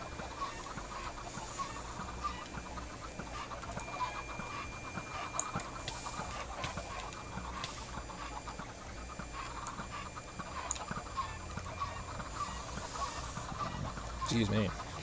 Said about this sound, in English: I may be overfilling this chicken pit.